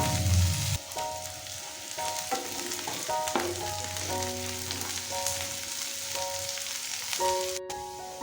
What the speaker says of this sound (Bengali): এবার কড়াইতে দিয়ে দেব তেল, দিয়ে দেব কেটে রাখা পেঁয়াজ।